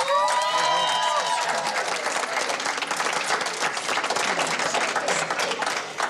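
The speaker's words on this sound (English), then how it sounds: "So please give them a round of applause." Sustained crowd applause and cheering at a Colorado 2022 election night event for campaign staff and volunteers, loud and dense throughout, with a brief whistle near the start.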